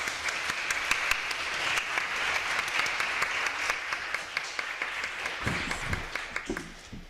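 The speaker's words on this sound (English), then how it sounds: "could we have a round of applause" An audience at a public roundtable on online identities breaks into sustained applause to welcome the speakers, a dense crowd of hands clapping for about seven seconds, steady before thinning slightly toward the end, with no voices on top.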